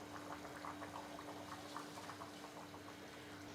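Water with chicken pieces bubbling at a steady boil in a pot for Moradabadi chicken biryani, a soft continuous seething with faint popping bubbles under a low steady hum, no talk.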